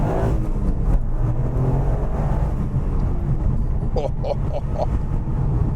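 Toyota GR Yaris Gen 2 accelerating hard, a loud steady engine roar and road rumble heard from inside the cabin, with a few short clicks toward the end.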